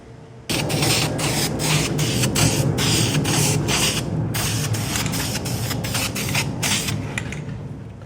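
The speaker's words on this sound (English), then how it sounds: "You can use any type of aerosol enamel paint." Aerosol enamel primer paint sprayed onto a computer case's front air intake grill, a loud, close, steady hiss that starts abruptly and runs continuously with small pulses, with no voices.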